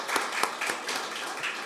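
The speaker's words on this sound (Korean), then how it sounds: "여러분 큰 박수 부탁드립니다." Applause from an audience at a public hearing on guaranteeing the income of child entertainers, steady claps with a few sharper slaps, moderately loud, filling the room evenly.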